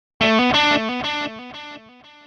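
A distorted electric guitar runs through a Mooer Prime P1 digital delay, with a few picked notes in a stepped phrase that fade as repeats trail off, played alone.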